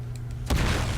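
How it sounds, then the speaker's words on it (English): Car exploding in Uncharted 4 multiplayer, a sudden loud low boom about halfway through, rolling into a dense rumbling blast tail after a few faint earlier taps. "Oh, that car exploded."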